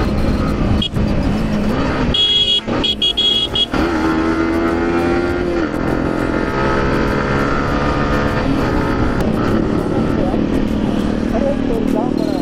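Motorcycle exhaust roaring steadily and loud from a rider's perspective as the bike enters a tunnel, with a brief sharper revving burst early on and continuous wind and engine drone throughout.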